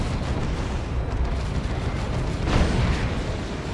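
Missile launcher attacks in a Dawn of War 2 battle, heavy rumbling blasts and booms washing together into continuous loud combat noise, with a brief swell in the middle.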